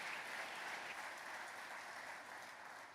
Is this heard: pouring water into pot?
no